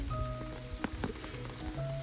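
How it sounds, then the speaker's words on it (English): Rain falls steadily on the Malvern Hills outdoors, a soft continuous patter with a few sharper drops and faint tonal hum in the background, no talking. "This rain is not inviting me to walk back"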